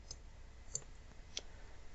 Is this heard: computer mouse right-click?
yes